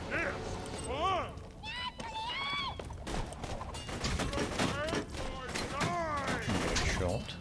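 Gunfire in Borderlands, with Maya fighting Bloodwing in the Wildlife Preservation: steady rapid shots crackle through a dense, busy game mix of squawking creature cries and chirpy effects, with a voice speaking over parts of it.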